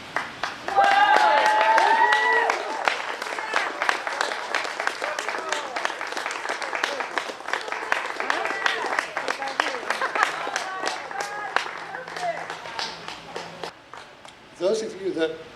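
At a celebration-of-life memorial, a voice sings a tune while the audience claps along. The clapping is rhythmic and scattered and carries on under the singing before fading near the end.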